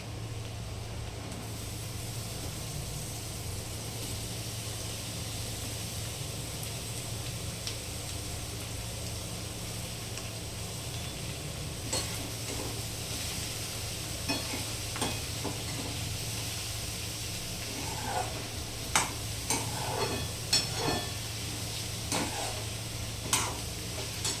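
Sliced ridge gourd lands in a pan of fried onions: a steady, soft sizzle of frying runs throughout, with sharper clicks and scrapes of stirring growing more frequent toward the end.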